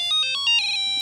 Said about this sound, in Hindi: रात को कौन फोन कर रहा है यार?